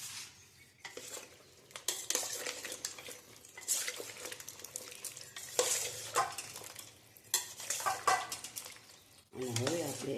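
Overnight-soaked, salted ridge gourd kachri is turned over with a utensil, making repeated close scraping, rustling and clinking against the vessel, with a voice briefly speaking near the end.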